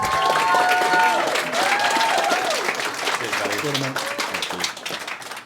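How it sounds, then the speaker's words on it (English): Applause from a conference audience welcoming speaker Alex Newell, a full round of crowd clapping with some cheering, while voices and tonal sounds overlap it early on before the clapping dominates. "So can we have a big round of applause for our third speaker, Alex Newell."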